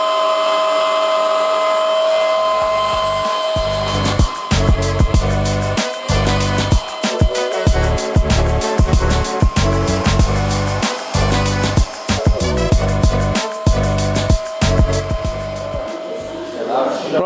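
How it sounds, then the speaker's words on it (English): A power polisher runs on Audi R8 V10 Plus parts being prepped for gloss black. The whine is loud, steady and close, with rapid choppy pulses through most of the run. "a bit of the old polishing going on."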